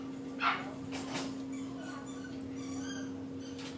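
A puppy gives a short yip and a few soft whimpers against a steady electrical hum, faint and close, then quiet rustling, with no voices.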